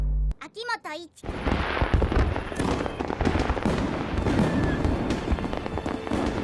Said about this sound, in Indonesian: Kembang api pun bermunculan